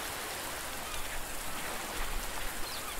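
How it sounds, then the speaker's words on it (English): Steady video-game rain from Under a New Sun hisses evenly throughout, a dense wash of droplets with no voices. "so it's raining."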